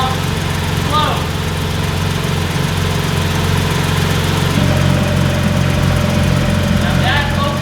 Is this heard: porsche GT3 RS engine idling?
yes